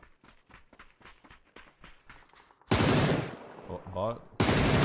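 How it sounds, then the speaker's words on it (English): Full-auto AK rifle fire in PUBG, a steady run of rapid quieter shots pattering in rhythm before a loud, close blast of gunfire and a voice cutting in over the action. "That was a full auto AK."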